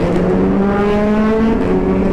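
An Aprilia RS660 600 cc motorcycle engine hums steadily while riding, a close, loud and even drone with a strong tonal whine throughout and no voices.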